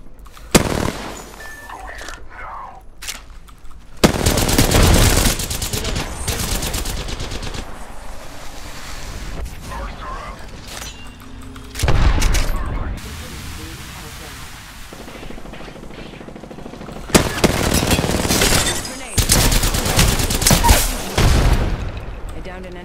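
Apex Legends gunfire comes in loud bursts of rapid automatic fire, several close volleys separated by quieter stretches of game ambience, with brief in-game voice lines between them.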